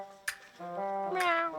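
A cat hidden inside a woodpile gives two short, close meows in quick succession, the second longer and rising, in an otherwise quiet spot.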